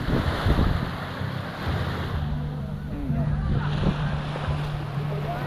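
Steady rush of sea waves at the shore in Real, Quezon, with wind noise buffeting the microphone outdoors and a faint engine-like hum underneath.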